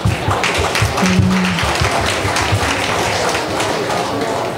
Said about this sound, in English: Please give a round of applause for Michael's representative